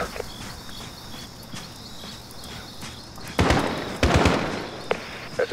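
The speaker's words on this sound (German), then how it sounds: "Es sind Schüsse gefallen." Gunfire in the Call of Duty Modern Warfare video game: after a stretch of faint ticking and quiet background, two loud, sharp bursts hit close together, followed by a few smaller cracks.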